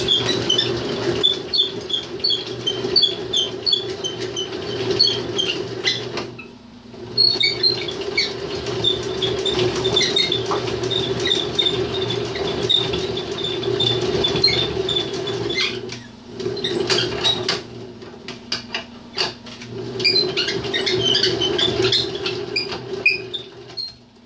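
A budget honey extractor spins frames with a steady mechanical whir and rattling, clicking and squeaking on top, stopping briefly twice before spinning up again.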